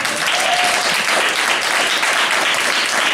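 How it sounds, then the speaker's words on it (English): A comedy club crowd applauds as a comedian walks onto the stage, a loud continuous roar of clapping from a small audience that holds steady without a pause. "Put your hands together for him."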